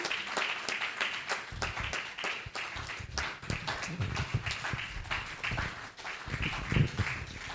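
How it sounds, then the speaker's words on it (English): Continuous audience clapping at a membership induction ceremony for an institute, an uneven patter of hands that is fairly faint and steady throughout, with no talking over it. "Keep clapping, keep clapping."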